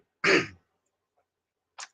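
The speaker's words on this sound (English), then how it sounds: "Trying to clear my throat without coughing entirely too much into the mic." A single throat clearing bursts out near a microphone, short and fairly loud, followed after a pause by a fainter brief rasp.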